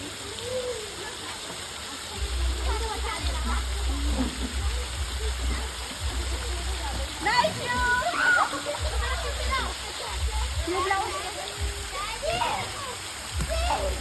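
Water splashes and sloshes in a swimming pool as a small child is taken in, with irregular bursts of splashing throughout and people talking and calling out over the watery noise.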